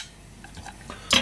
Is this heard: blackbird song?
no